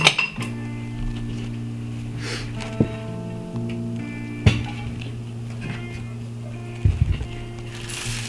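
Roasted Brussels sprouts tipped into a serving dish in a home kitchen, giving a few sharp clinks and clatters of dishware at scattered moments over a steady low hum, with no talking.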